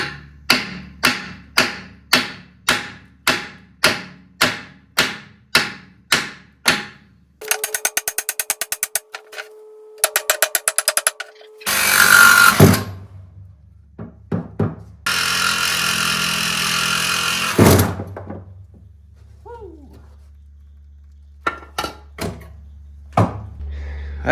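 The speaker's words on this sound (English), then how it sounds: "That bolt was seized in there pretty good, so, but nothing a carbide blade won't handle on the Sawzall." A Sawzall with a carbide blade cuts a seized bolt from old radius arms during a solid axle swap on a Tahoe, loud rapid reciprocating buzzing in long close bursts after a run of regular knocking impacts.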